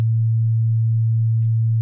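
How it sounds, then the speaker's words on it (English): A 113 Hz sine wave test tone in a recording studio: a single steady, pure low hum held at constant loudness from start to finish, with no other sound. "Sine wave, that's the best wave"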